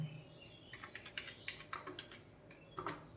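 Keys clack on a computer keyboard while accounting software entries are made, a quiet, close run of irregular taps with a few firmer strokes like the enter key, and no talking.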